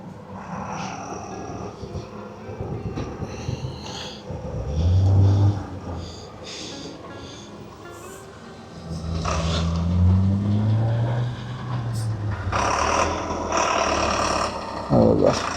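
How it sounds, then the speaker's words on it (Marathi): A bus arrives on a high-altitude road during a Kailash yatra, its low engine rumbling and swelling as it draws near, with a hiss like air brakes and faint voices in the background. "हा बघा, आपली दुसरी बस आली आहे"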